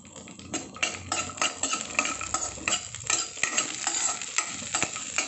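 Dry fruits frying in hot ghee in a kadhai for a festival sweet dal, stirred continuously, with close, busy scraping and clinking of a spoon over a crackling sizzle.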